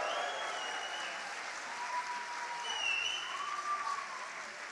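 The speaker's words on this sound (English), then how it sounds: "Come on, cheer," A graduation ceremony audience applauds and cheers for new graduates, a soft, steady wash of clapping heard from a distance that continues evenly throughout, with faint whoops rising over it.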